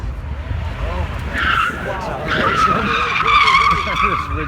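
A Tesla skids through an autocross run at a car show, tires squealing in rising high-pitched bursts over a steady engine-free roar, with a crowd talking and cheering underneath throughout.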